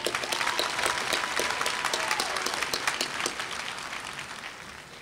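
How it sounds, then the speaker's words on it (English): Graduates at a 2013 Columbia Southern University commencement ceremony receive a round of applause, a dense crowd clapping that is loud at first and gradually fades over five seconds. "Give them a round of applause, please"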